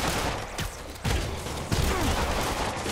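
Dense gunfire in the video game Spider-Man PS4 crackles in rapid, overlapping volleys, loud and continuous over the whole span, with sharp bursts near the one-second and 1.7-second marks.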